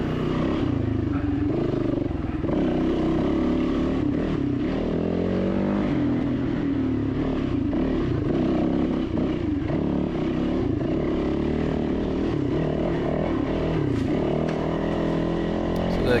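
An enduro motorcycle ridden in third gear along a rocky trail at Georgetown OHV, its engine droning loud and constant with rising and falling revs, close throughout.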